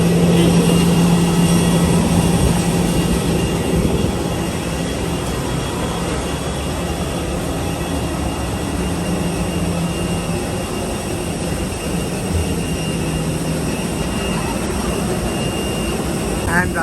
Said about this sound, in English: And I love the sound of the airplane.